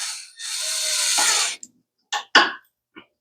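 A power screw gun whirs in a sustained loud burst, then gives several short spurts as it drives screws into a Toro Personal Pace mower carburetor, close up with no talk.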